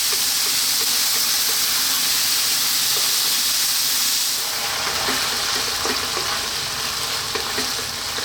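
Chopped tomatoes cooking down in a hot pan for red lentil dal, a strong continuous sizzle and hiss that eases slightly partway through, with faint stirring knocks.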